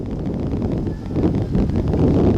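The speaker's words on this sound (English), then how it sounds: "it sounds like when you're down there, Mark, it sounds like you're in a wind tunnel." Strong wind buffets the microphone at an outdoor softball game, a loud, continuous rumbling roar with no voices.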